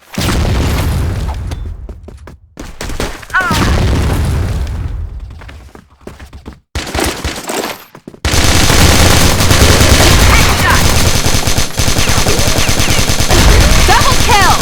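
Bursts of KAC ChainSaw light machine gun fire in the Vietnam-themed shooter CrossFire, loud and close, with sustained automatic volleys broken by short pauses before a long unbroken stretch of fire.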